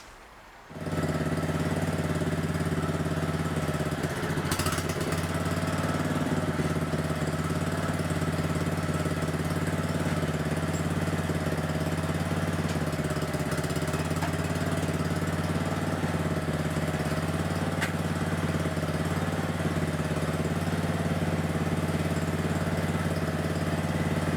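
A Columbia riding mower engine starts after a brief quiet moment, then runs at a steady, loud, close idle with a constant rumbling drone for the rest of the clip.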